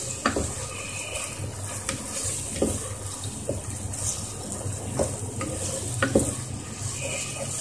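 Masala frying in a pan is stirred steadily for a couple of minutes, a close sizzle layered with rhythmic spoon scrapes and clinks every second or so, with no one speaking.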